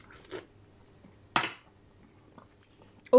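A spoon clinks against a metal pot of vegetable soup in a home kitchen, a few sharp, close metallic taps separated by quiet pauses, with no talking.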